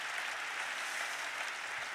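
Steady applause from an audience at a UNESCO Korean Commission 60th anniversary ceremony, an even wash of clapping with no breaks.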